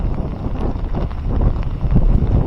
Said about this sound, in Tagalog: Pabugso-bugsong hangin.